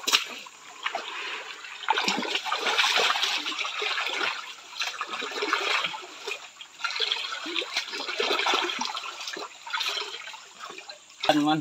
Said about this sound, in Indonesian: kita goyang dulu dulangnya ya